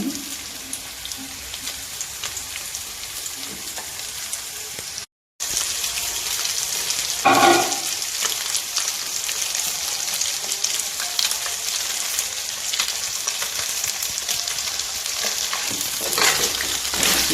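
Goat meat and blood pieces fry in a pan with a dense, continuous sizzle, close and steady, with a brief clatter of stirring partway through and no voices.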